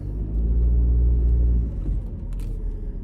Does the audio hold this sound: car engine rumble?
yes